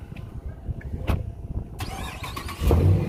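A Dodge Challenger Shaker's engine catches and starts, then swells into a deep, loud rumble near the end. Before that there are lower-level mechanical clunks and outdoor noise, and no speech.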